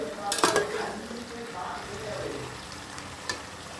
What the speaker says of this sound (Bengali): এই যে মিক্স ভেজের ভেজিটেবল সব দিয়ে দিয়েছি এর মধ্যে।